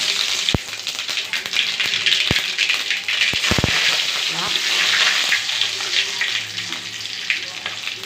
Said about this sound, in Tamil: எண்ணெய் ஊற்றியாச்சு கொஞ்சமாக சோம்பும் தான் போட்டுக்கிறோம்